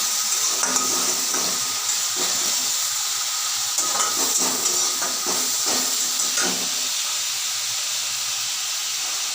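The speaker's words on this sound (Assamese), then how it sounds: "দিলোঁ অকণমান পানী মছলাখিনি ভাজা যোৱাৰ কাৰণে" Spices frying in a pan with a little water added, a steady close hiss and sizzle with faint stirring scrapes, no voices, for an Assamese paneer curry.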